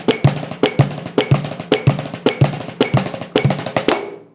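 Drum flam rudiment played on a snare with the grace-note flam shifted onto the "e" subdivision, a steady repeating pattern of sharp, close strokes in even groups, played alone with no talk.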